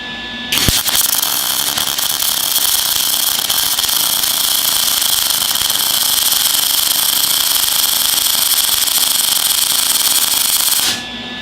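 A Lincoln MIG 180HD welder runs a bead with a loud, steady crackling buzz that starts abruptly, holds evenly for about ten seconds, then cuts off; no talking.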